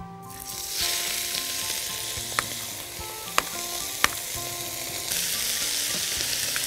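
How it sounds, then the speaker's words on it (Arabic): Meat for shawarma fries in oil in a very hot pan, a loud continuous sizzle with a few sharp clinks of a utensil stirring against the pan, close up and without talk. "أول حاجة هنعملها هي اللحمة، لازم تكون الطاسة سخنة جدا، وبعدين هناخد اللحمة اللي عندنا"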